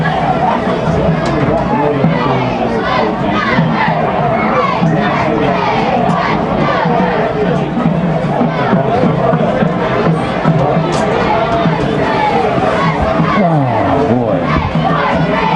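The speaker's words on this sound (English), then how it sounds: "Pretty good crowd tonight, actually" A large crowd at a high school football game cheers and yells in a loud, continuous roar of mixed voices, with shouted chatter throughout.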